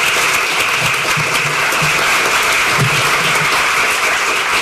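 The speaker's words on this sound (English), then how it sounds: "Miguel Ponce, Fong An Hill, and Rosa Saldivar with a round of applause" Loud, dense applause from a school district audience honoring students, steady sustained clapping filling the space with a few faint voices underneath.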